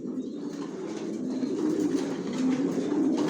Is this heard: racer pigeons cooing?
yes